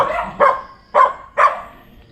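A dog barks three or four times in quick succession, sharp and moderately close, with faint background noise around a house.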